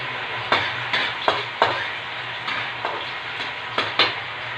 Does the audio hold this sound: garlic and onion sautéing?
yes